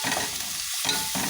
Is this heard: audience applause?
no